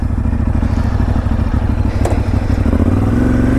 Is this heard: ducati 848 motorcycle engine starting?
yes